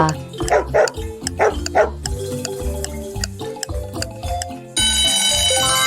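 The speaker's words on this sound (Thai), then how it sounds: "เฉลยเสียงของสุนัขค่ะ" Several sharp dog barks in quick succession over upbeat background music, which carries on alone after the barking stops.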